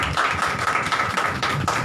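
A church congregation claps in a steady rhythm of sharp, fairly close claps that continue throughout, with no talking over them.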